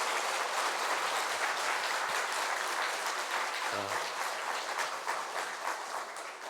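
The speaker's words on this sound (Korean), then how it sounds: "박수를 치려면 크게 쳐야 되겠죠?" A church congregation at an afternoon worship service applauds loudly and steadily, a thick continuous wash of many hands filling the room from start to finish, with no voices over it.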